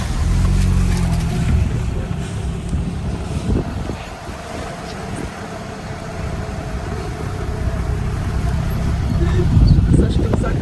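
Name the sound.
car driving slowly on a washed-out road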